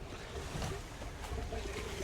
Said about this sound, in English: while that bathroom gray tank is flowing